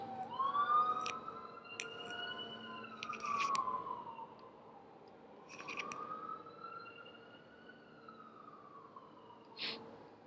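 Sirens wail outside, their rising and falling tones sweeping steadily through the whole stretch at moderate distance, with a few brief sharp noises over them and no talk.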